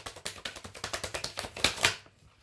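Tarot cards shuffled by hand in a quick run of crisp riffling flicks, steady and close, ending in a couple of louder snaps before stopping.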